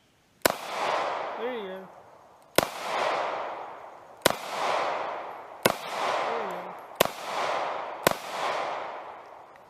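Six sharp gunshots ring out at a family shooting range, spaced a second or two apart, each with a long echoing decay across the open air, while a voice speaks briefly between shots.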